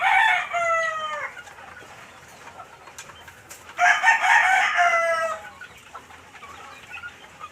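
Roosters crow loudly and close by in their coops, two long crows separated by a quieter stretch of faint clucking and background bird sounds; no talking.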